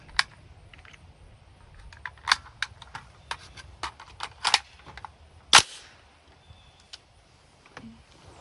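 Mk 12 rifle loaded with IMI ammunition fires three rounds in a loose string, with sharp, loud cracks spaced a second or two apart over a quiet outdoor background, plus a few lighter clicks and pops scattered between and after.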